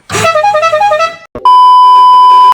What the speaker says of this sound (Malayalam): ഷെയർ ഹോൺ ഒന്നുകൂടെ നമുക്ക് കേൾക്കാം കേട്ടോ